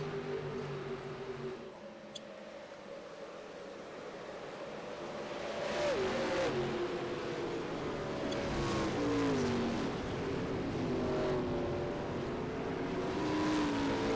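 A Daytona lap-one crash replayed in a stock car racing video game, with a steady engine roar that swells and holds, shifting whines as cars spin and collide, and no voices.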